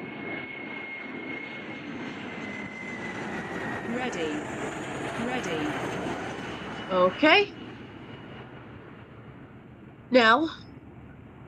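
Airliner engines spool up in the Eurofly flight simulator game with a steady rising whine and a broad roar that fill the whole span, while a voice talks over it and two short tonal chimes sound near the end.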